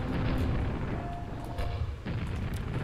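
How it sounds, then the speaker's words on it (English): Grenade launcher rounds bursting in Arcane Dimensions, a few muffled booms over steady background game noise. "get out the grenade launcher. Shoot 3 at them"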